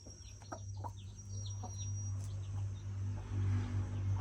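A few faint, high peeps from a chick still inside its egg come in quick bursts at first, over a constant low mechanical hum.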